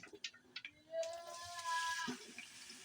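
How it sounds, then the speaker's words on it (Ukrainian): Cabbage hits a hot pan and starts sizzling, a soft steady hiss rising after a few faint clinks, quiet and close. "Сковорідка розігрілася. Все отак прямо висипаю сюди."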